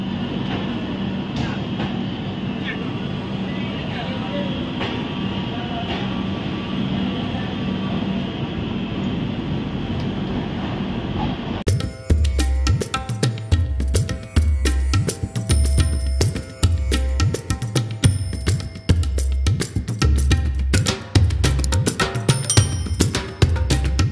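A passenger train rumbles along, heard from inside a carriage on a journey from Katra, first as a steady low roar, then as louder rhythmic wheel clatter and rattling joints beating over the track, with no talk.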